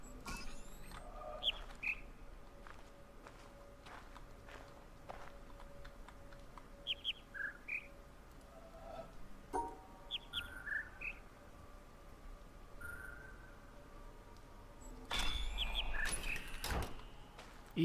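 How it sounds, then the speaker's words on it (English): A speaker in the video game The Witness gives off short, sparse electronic chirps and beeps, scattered at irregular intervals over a soft ambient background, with a brief louder burst near the end. "Okay, it's chirping,"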